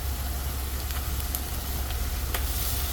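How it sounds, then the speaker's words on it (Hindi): Ginger garlic paste goes into hot oil with lightly browned onions for a Mughlai chicken handi, giving a steady, loud, crackling sizzle without any speech. "अब मैं इसमें डालूंगी 2 बड़े चम्मच अदरक लहसुन का पेस्ट।"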